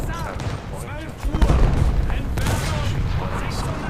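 Machine gun fire in War Thunder's Great War event, a dense rumbling burst of gunfire and booms that rolls on beneath someone talking.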